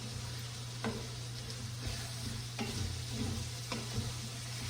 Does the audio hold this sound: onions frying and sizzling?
yes